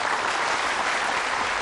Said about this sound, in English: And a very appreciative crowd knowing the importance of that shot here in Kaohsiung